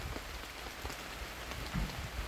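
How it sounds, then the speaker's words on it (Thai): Steady rain pours down beside a natural reservoir during a windy storm while people are out fishing, a dense, close hiss of drops hitting surfaces with a low rumble underneath. "ฝนตกครับตอนนี้ครับ"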